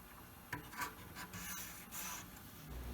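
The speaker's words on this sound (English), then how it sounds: "I'm going to try to rub some glue into that crack." A mahogany post being rubbed with glue worked into a crack, producing quiet, close scratchy rubbing strokes in short uneven bursts with no talking.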